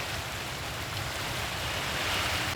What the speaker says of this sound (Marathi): बदलापूरमध्ये तुफान पाऊस सुरू झालेला आहे